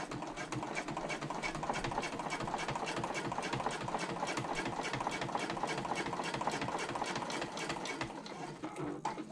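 A sewing machine stitches a fabric bag panel with a steady, fast mechanical chatter, running continuously at close range before slowing near the end.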